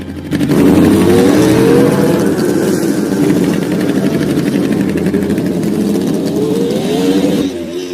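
A cartoon car's engine revs and drives off, loud and close with a steady throaty drone and rising pitch sweeps, then cuts off near the end.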